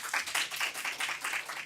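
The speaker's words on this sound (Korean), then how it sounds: "큰 박수로 맞이해 주시기 바랍니다." Audience applause welcoming a lecturer onto the stage at a public talk, a steady patter of many hands clapping at moderate distance, without speech.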